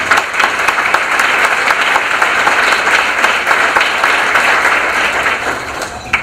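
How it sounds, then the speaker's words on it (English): Sustained audience applause at a YMCA annual meeting celebration, a dense, steady wash of many hands clapping for volunteers, loud and even throughout before easing slightly at the end. "Let us give a round of applause for all those volunteers."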